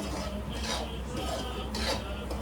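A spoon scrapes and stirs a thick mixture in a pan with ghee over a low flame, giving steady soft rasping strokes with a few brighter scrapes, under quiet room noise.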